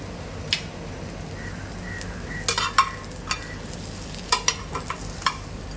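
Bread slices fry in butter in a pan, a faint, steady sizzle under sharp intermittent clicks and scrapes from a spatula turning and pressing the slices.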